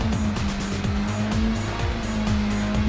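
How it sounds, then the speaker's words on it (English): A Honda Civic in a racing video game at Le Mans spins its tyres, the engine rising and stuttering in quick repeated revs as the wheels scrabble, with a steady high whine underneath and nobody speaking. "Let's stop spinning the tyres"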